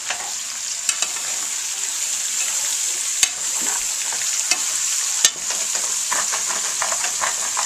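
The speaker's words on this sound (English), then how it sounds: "Stir this in." Vegetables are stirred into browned potatoes in a frying pan for a potato hash with rice, making a steady close sizzle broken by a few sharp scrapes and clacks of the utensil.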